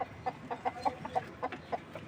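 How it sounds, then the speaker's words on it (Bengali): Silkie hens cluck in a quick, steady series of about nine short, close calls, clear and fairly loud, with no talking. "সিল্কি মুরগিগুলি কন্টিনিউ ডিম দিচ্ছে আলহামদুলিল্লাহ"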